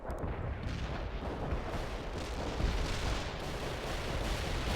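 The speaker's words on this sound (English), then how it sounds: "The barrage will reach you soon." Continuous thunderous rumble of an artillery barrage in World in Conflict, shells landing in a dense, overlapping roar that stays loud and steady for the whole few seconds, with no clear gaps between blasts.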